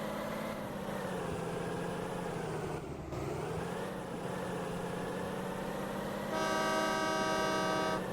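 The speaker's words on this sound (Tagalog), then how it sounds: "Ay, pag-busina dyan." A sustained engine drone with a wavering tone, then a loud, steady car horn blares near the end, close and continuous.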